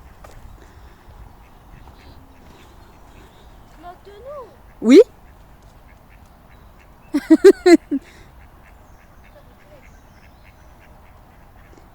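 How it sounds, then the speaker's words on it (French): Ducks by the water at a park give a single loud quack, then a quick burst of several quacks a couple of seconds later, with children and adults speaking nearby. "elle s'éclate avec sa soeur à essayer d'attraper les canards"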